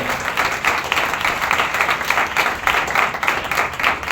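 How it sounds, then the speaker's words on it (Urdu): A congregation at a church healing meeting claps in steady, rhythmic waves that carry loudly through the whole stretch, with no talk over it. "یہ تالیاں ٹھیک نہیں"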